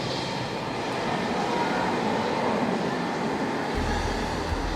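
A London Underground train moves through the tunnel with a steady, loud rumbling roar, rails and air rushing together, and a deep low-end surge building near the end.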